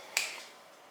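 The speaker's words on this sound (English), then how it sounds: "I'm gonna snap my fingers" A single sharp finger snap, close and crisp, followed by a short fading room tail and quiet silence.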